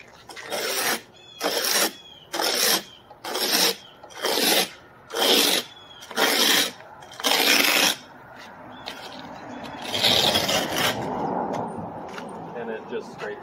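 An ice scraper rasps across an iced car window in eight evenly spaced, loud strokes, followed by a longer, rougher scrape.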